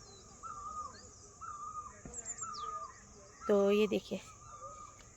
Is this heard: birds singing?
yes